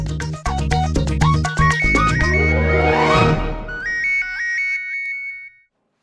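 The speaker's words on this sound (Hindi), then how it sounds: "किसका फोन है?" A mobile phone rings loudly and close with a bright electronic melody of rapid repeating notes, then a rising sweep and a brief trailing tune before it stops.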